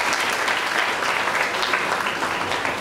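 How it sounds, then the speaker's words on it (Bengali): An audience at a club orientation session breaks into dense, steady applause, loud and sustained throughout. "তার জন্য তালি হোক"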